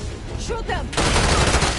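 Gunfire in Call of Duty Black Ops 6: after a short shouted voice, a loud, sustained burst of rapid automatic shots fills the second half.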